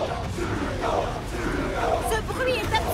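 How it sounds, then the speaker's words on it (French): A cartoon football crowd of supporters cheering loudly, a dense roar of massed shouting that stays constant throughout, with voices speaking over it. "Le chèque veut que la foule de supporters fasse encore plus de bruit."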